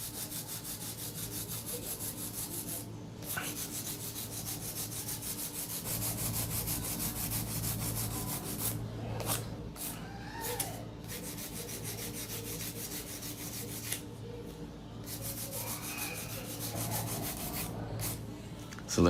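A nail file rubs back and forth against fingernails in quick, steady, close scratching strokes, pausing briefly a few times over nearly twenty seconds, with no talking.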